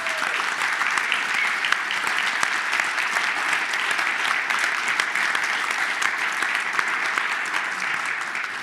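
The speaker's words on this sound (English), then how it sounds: "I wouldn't ask you to leave before giving a phenomenal applause to all panelists here" Sustained applause from a conference audience for panelists at a nuclear energy forum side stage, a steady dense patter of many hands clapping throughout, loud and even with no talk.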